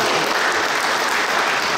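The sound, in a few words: audience applause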